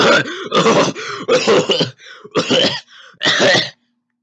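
A voice imitates a cough several times in a row, short rough bursts close to the microphone, ending in silence.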